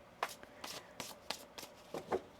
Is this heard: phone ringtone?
no